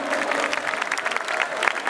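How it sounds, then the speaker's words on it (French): Steady applause from an audience at a public ceremony, a dense even clatter of many hands clapping continuously with no pause. "Donc, on peut applaudir, s'il vous plaît."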